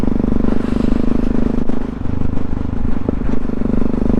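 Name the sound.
supermoto motorcycle engine chugging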